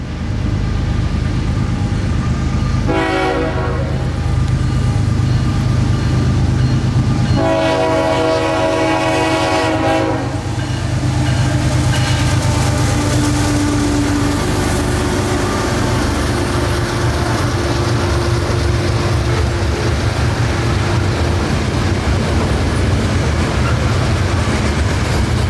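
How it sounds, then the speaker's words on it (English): A freight train of Florida rock hopper cars rumbles past close by, steady rolling noise of heavy cars with two horn blasts early on and a lingering wheel squeal. "a solid train of Florida rock hoppers"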